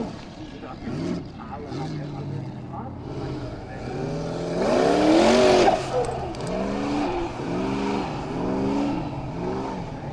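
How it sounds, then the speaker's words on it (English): Formula Offroad race cars at a round in Akureyri, Iceland, roar with rising and falling whining engine revs, swelling to a loud peak before dipping and climbing again, under an excited commentator's voice. "Listen to those turbines."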